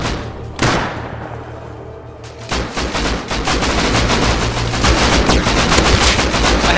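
Rapid bursts of gunfire in the survival game Rust during a PvP fight on a hillside, loud sharp shots starting as single cracks then building into dense sustained volleys for several seconds.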